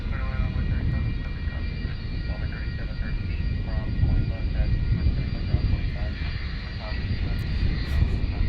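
A Boeing 757 jet at DFW airport drones with a steady, loud engine roar and whine, a continuous broad rumble throughout, with talking faintly mixed underneath.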